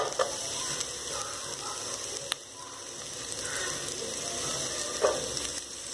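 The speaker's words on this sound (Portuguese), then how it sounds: "Primeiro eu vou refogar a cebola." Onion sautéing in olive oil in a pan, a soft, faint sizzle with low steady hiss, one sharp knock of a wooden spoon midway and a light clatter near the end.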